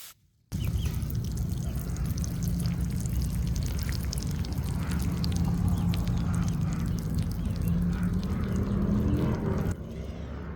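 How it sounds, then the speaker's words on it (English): Water percolates down into saturated garden soil right after watering, a close, steady fizzing and trickling hiss with faint crackles that runs unbroken for about nine seconds, then softens. "I can hear the water percolating down"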